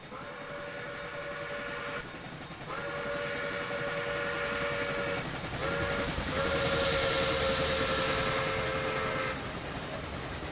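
Steam whistle of a Pere Marquette N-1 2-8-4 Berkshire locomotive in Train Simulator Classic blows two long blasts, a brief short toot, then another long blast over a steady background hiss and rumble.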